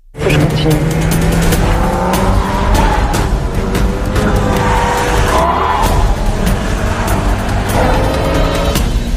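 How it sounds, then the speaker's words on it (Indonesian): Film car chase, with loud, continuous engine roar and repeated tire squeals and skids as the cars pursue each other, some faint voices under the din. "Di tengah perjalanan, mobil mereka terlihat diikuti oleh mobil detektif Anna."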